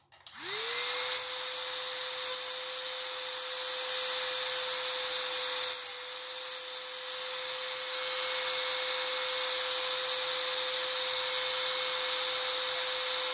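A small dental cutting disc spins up on a handpiece to a steady high whine and cuts freehand between the necks of teeth, with brief grinding changes in tone as it bites.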